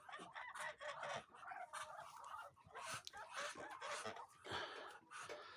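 A group of ducks, one of them a broody sitting duck, makes a quiet stream of clucking, chattering calls in short bursts, fairly soft and at a moderate distance.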